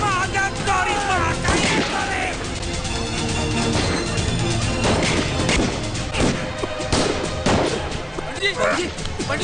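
Gunfire from a fight scene in a 2003 Bollywood film: bursts of shots and crashing impacts scattered over several seconds, with shouting voices mixed in.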